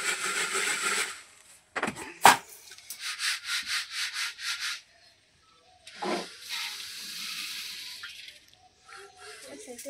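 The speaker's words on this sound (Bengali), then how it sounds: "আস্তে আস্তে কিন্তু মুড়িগুলো সব কিন্তু ভেজে নেওয়া হচ্ছে" Puffed rice being roasted in an oiled clay pan in a village kitchen, heard as bursts of dry, sandy scraping and rustling that come and go, with a couple of sharp knocks and short gaps between them.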